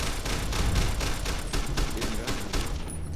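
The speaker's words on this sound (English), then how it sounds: "Shooting guns is real scary" Gunfire in Fallout: New Vegas, a steady run of sharp shots at an even rhythm, fairly close and loud, lasting about three seconds with no talk over it.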